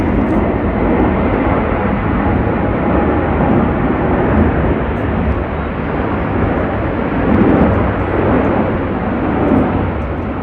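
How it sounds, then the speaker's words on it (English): A large Airbus airliner roars overhead, a steady, loud, broadband engine rumble that fills the whole stretch with no talk. "Look at that great big Airbus."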